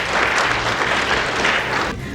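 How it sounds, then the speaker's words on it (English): Conference audience applauds at an aviation event's opening day, a dense steady wash of many hands clapping throughout, fading slightly at the close. "A round of applause, ladies and gentlemen."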